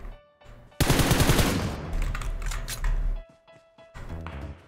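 Rapid, loud bursts of automatic M4 rifle fire from a mobile shooter video game, crackling in a sustained volley with short gaps between strings of shots, over a faint game background.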